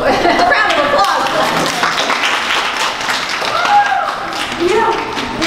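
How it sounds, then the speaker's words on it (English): An audience at a talk on creation and evolution gives a round of applause, with mixed clapping and taps heard alongside voices and crowd murmur for a few seconds. "Can I have a round of applause?"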